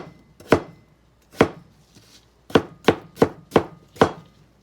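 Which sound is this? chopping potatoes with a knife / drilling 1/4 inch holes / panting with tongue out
chopping potatoes with a knife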